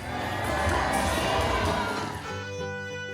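A crowd cheers and shouts at the Disneyland Paris Halloween cavalcade, stirred up by an energetic cast member. Dense, loud cheering fills most of the clip, then gives way to music.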